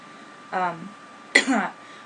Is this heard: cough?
yes